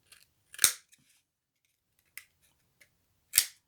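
Scissors snip paper while making a mini Easter basket, a few short, sharp cuts spaced out in a quiet room, with the loudest snips near the start and end.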